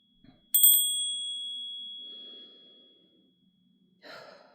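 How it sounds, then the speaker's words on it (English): A single small bell is struck once and rings out clearly with a bright, sustained tone that decays over about a second, followed by a soft breath and quiet movement. "I feel like I need to ring the bell."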